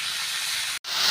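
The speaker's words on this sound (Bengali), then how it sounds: "আলু পেঁয়াজটা আগে আমি খুব ভালো করে ভেজে নেব" Potatoes and onions sizzle in hot oil, a steady close hiss with a momentary break near the end before the frying resumes.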